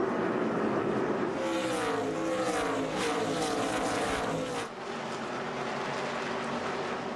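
NASCAR stock cars roar around the New Hampshire track in a 2005 fall race, a loud sustained engine drone with rising and falling pitch as cars pass, easing slightly partway through.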